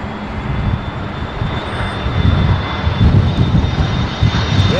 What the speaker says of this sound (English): just come and fired up his engines.